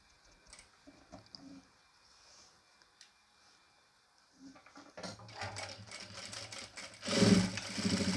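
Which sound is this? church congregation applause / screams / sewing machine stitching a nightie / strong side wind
sewing machine stitching a nightie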